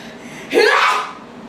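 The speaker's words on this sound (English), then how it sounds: "I had a terrible sneezing." A single short sneeze comes from a performer during a storytelling speech, one sharp close burst in an otherwise quiet moment.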